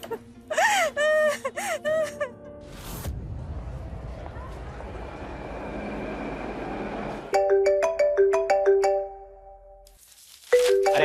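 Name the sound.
mobile phone ringing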